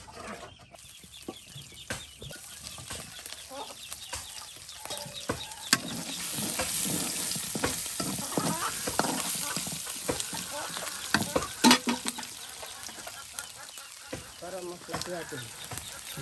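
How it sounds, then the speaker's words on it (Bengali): Chicken meat being stir-fried village style with ground spice paste in a pan gives a soft sizzle under repeated clattering and scraping strokes of a spatula, irregular and close by. "নানির হাতে মজাদার গ্রাম্য পদ্ধতিতে মাংস কষা ভুনা।"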